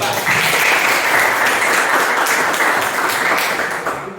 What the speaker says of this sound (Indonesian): berikan aplaus pada kelompok 4